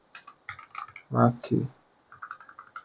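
A computer keyboard clicks in quick, light, irregular keystrokes while someone enters school database records, close and fairly soft, with someone talking over it.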